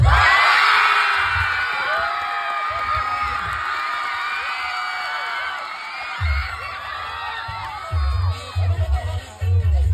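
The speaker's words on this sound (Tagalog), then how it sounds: "Palakpakan at sigawan para kay idol." A packed crowd at a Bulacan gathering whoops, screams and cheers for the performer they call idol, forming a loud, dense roar that eases slightly midway and then surges again with thumping bangs.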